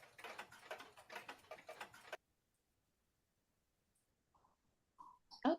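A toy car-shaped clock ticks in a quick, steady rhythm for about two seconds, close and soft, then falls silent before a few faint clicks and a brief rustle.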